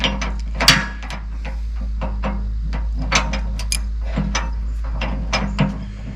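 A ratchet tightens nuts on bolt-on bucket hooks for a Kubota LX2610 compact tractor, giving rapid clicking strokes in short bursts close by over a low steady hum.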